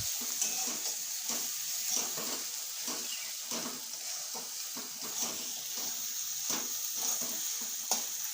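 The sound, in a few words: chopped tomatoes frying with fried garlic and onion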